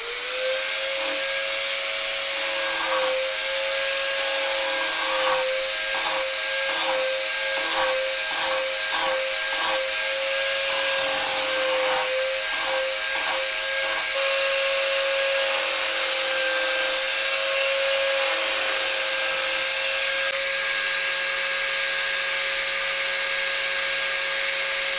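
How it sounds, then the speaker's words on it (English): An angle grinder cuts a part off a chainsaw, its high whine steady, broken by repeated bursts of harsh grinding noise as the disc bites the metal. "I'm just going to grind it off. So angle grinder"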